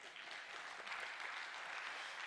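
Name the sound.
audience applause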